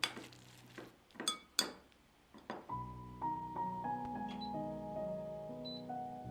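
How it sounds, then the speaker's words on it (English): A metal pan is set down on a home kitchen stove with a few sharp clanks and clinks, followed by a low, steady hum with faint ringing tones. "Putting the pan on fire."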